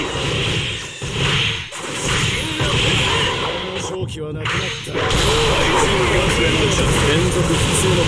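Saitama's consecutive normal punches in Jump Force, a dense barrage of whooshing swipes and impacts layered with game effects and constant voices shouting over the fight, loud and continuous.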